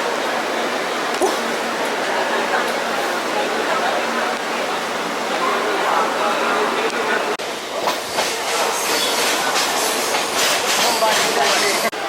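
Mumbai local train running, a steady loud rumble and rush of wheels and carriage noise heard from inside, with rattling and clatter throughout and faint voices mixed in.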